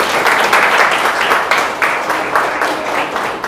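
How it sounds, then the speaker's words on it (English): An audience breaks into applause to welcome Dr. Rajesh Bayari to the dais, a full, continuous burst of many hands clapping with an uneven, pulsing texture. "kindly welcome him with a big round of applause to the dais"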